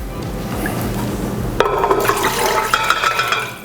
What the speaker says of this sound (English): about a cup of water just to get it going